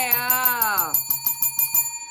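Bell-ring sound effect for a subscribe button: a descending chime followed by a rapid run of bright, evenly spaced metallic rings, loud and alone.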